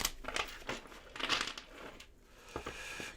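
Tarot cards are shuffled by hand in a series of soft, papery riffles and crinkling bursts, quiet and close with no talking.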